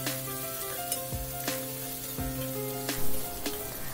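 Finely chopped small onions sauté in hot oil with a constant close sizzle, punctuated by sharp periodic scrapes and knocks of a spoon against the pan.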